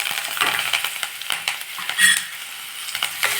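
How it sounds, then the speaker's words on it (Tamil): Curry leaves sautéing in a pan for a rice and coconut tiffan dish, giving a soft sizzle with scraping stir strokes and small clinks, moderately close and without talk. "கருவேப்பிலை போட்ட உடனேயே நல்லா வதக்கிட்டு வருங்க"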